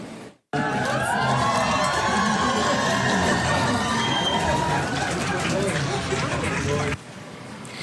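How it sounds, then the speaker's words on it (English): A dense crowd in a courthouse hallway cheers and shouts for a defense lawyer, loud and continuous babble with yells and whoops, starting abruptly and dropping off sharply near the end. "There was a ton of cheering for her."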